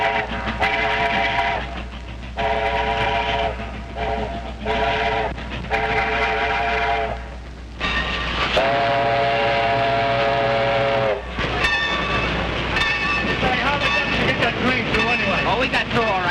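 A steam locomotive in a 1930s rail yard sounds repeated long whistle blasts in several bursts over the heavy rumble of the running train, with voices shouting faintly beneath.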